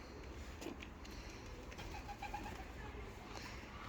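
Pigeons in a coop, tumbler pigeons kept in Kars, coo faintly and repeatedly against a low background hum, with a few soft wing and movement sounds.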